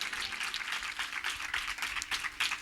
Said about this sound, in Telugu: దేవునికి స్తోత్రంగా చప్పట్లు కొట్టి దేవునికి కనపరచండి.